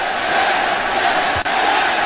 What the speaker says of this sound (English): This Philly crowd is just losing their minds, and the match has not even gotten underway yet